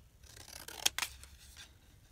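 Scissors snipping paper into a square for journal tabs, a few quick close cuts standing alone over quiet room noise.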